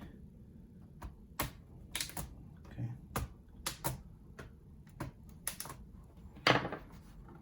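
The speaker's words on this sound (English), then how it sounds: "with the flathead screwdriver I just push gently and try to lift it" Scattered plastic clicks and small snaps of a flathead screwdriver prying at a Dell Inspiron 15-3567 laptop keyboard, irregular and close, with a sharper crack near the end.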